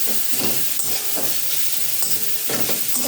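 Beetroot fry with salt and turmeric being stirred in a pan, a steady close sizzle broken by a few scraping strokes of the spoon.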